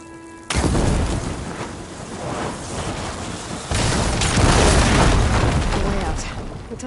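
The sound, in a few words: blaze barrels exploding from fire ammo in Horizon Forbidden West video game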